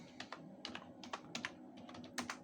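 A command is typed on a computer keyboard to install a Pi camera module on a Raspberry Pi, a quick close run of soft key clicks in uneven bursts.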